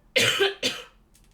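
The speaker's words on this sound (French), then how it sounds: "Pardon de vous tousser dessus." Two sharp, loud coughs in quick succession from a person indoors, close to the microphone, followed by quiet.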